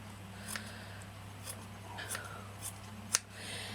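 Scissors snip through fabric for an Elizabethan bib necklace, a few soft, sparse cuts spaced apart over a quiet room hum, one sharper snip near the end.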